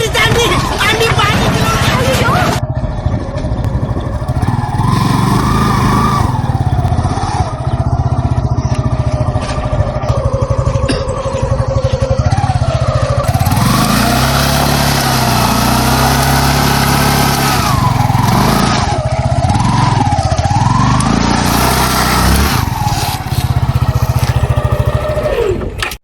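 A motorcycle engine idles and revs steadily throughout as the bike is pulled out with difficulty, its note rising and falling in a few swells, with people talking over it.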